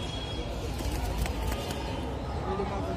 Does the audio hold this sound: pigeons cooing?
yes